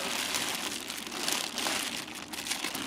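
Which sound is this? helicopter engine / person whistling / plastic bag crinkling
plastic bag crinkling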